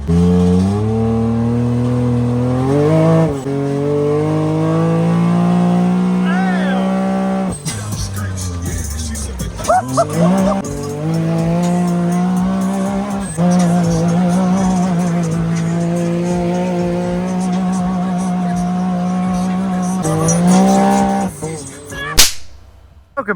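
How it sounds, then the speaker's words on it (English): A large pickup truck fitted with a huge spindle lift drives down the road, its engine droning loud and close and rising in pitch with each gear before it drops and climbs again. "We about to unload this rig and run it down the road."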